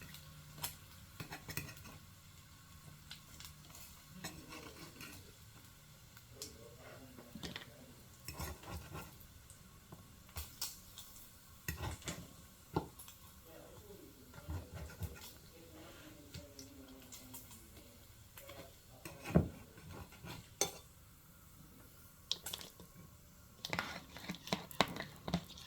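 Bacon fries in a pan, nearly burning, giving a faint crackle with scattered pops and sharp clinks of a utensil against the pan over a quiet background.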